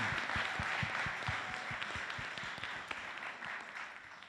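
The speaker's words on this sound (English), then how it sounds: "one more round of applause for these incredible teams and these presentations" Audience applause for the teams at a university entrepreneurship pitch competition, a sustained, dense wash of many hands clapping in a hall, with sharper individual claps standing out in the first half before settling into an even roar.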